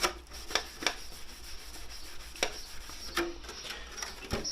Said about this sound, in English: flat panels and stuff like that, just like I say, scouring pad, as you can see.